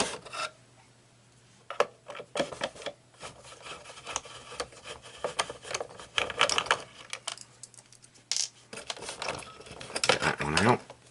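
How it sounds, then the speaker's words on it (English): A 4mm nut driver turns bronze screws out of a Grundig Yacht Boy 210 radio, making close, faint scraping, rubbing and clicking sounds in irregular bursts. "you just need a 4mm nut driver, and we've got these 4 bronze screws"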